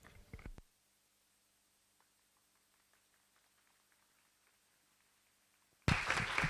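Crowd applause opens and closes the moment: a brief burst of clapping at the start, near silence in between, then loud, dense applause swelling in for a presentation at a Python conference talk on open data for Taiwan's roadways.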